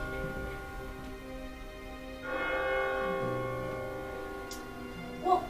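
A single bell rings out, a steady sustained ringing with a sharper strike near the end, recalling 1800s spirit rituals to summon and release ghosts at the Winchester Mystery House.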